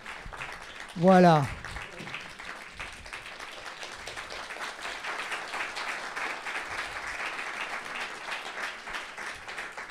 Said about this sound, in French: Mais oui, on peut les applaudir.